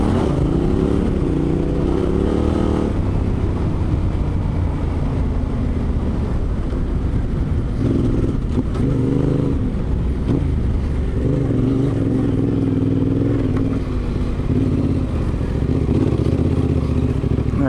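A big Triumph Thunderbird motorcycle climbing a rough hill track, engine droning loudly and continuously close by, revs rising and falling with the terrain, with a few faint voices underneath.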